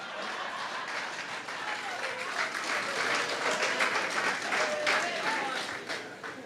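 Audience applause for a man named Mr. Huggins as he stands at a political rally, sustained steady clapping from a crowd throughout, fairly loud and even.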